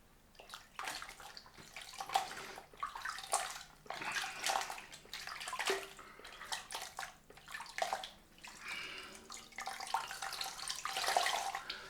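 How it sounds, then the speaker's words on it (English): Water runs steadily from a tap into a sink while a cloth is rinsed, a close, continuous splashing gush that surges and dips with handling, no voices. "I'm going to rinse off the cloth."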